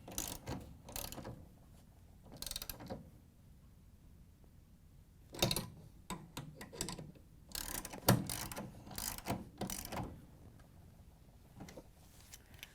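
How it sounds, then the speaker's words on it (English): A socket wrench ratchets as bolts are tightened on an adjustable hinge kit of a Frigidaire/Electrolux refrigerator door, with several bursts of close clicking separated by quiet pauses and no talk. "we can grab the socket and the wrench and tighten it down"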